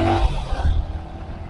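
A Yamaha R15 v3 motorcycle on an empty road gives a short, close engine burst as it accelerates, with low rumbling that fades off quickly.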